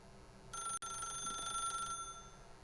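A telephone rings continuously for about a second and a half in The Stanley Parable, a steady electronic bell tone with bright overtones, fairly close and alone with no talk.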